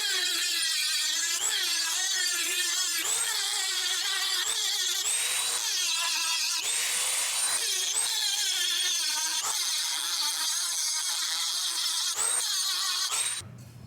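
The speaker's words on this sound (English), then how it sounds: "We'll sand all that down to make sure it's nice and flat." Hand sanding on an eBay turbo manifold for a Nissan Sentra SpecV, a sanding block working the turbo and wastegate flange faces flat; continuous close, loud rasping strokes in a steady back-and-forth rhythm with no talk.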